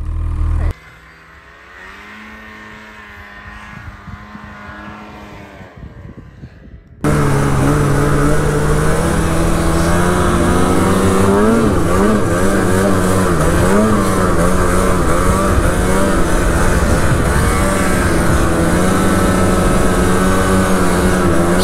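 A vehicle engine revs while riding up a hill, first a quieter, muffled drone, then an abrupt jump to a loud, close, continuous roar with wavering pitch that holds to the end.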